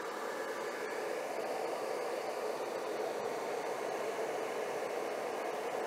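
Electric heater fan running off a portable LiFePO4 solar generator, a soft, steady airy whoosh, faint and even throughout, with no talk.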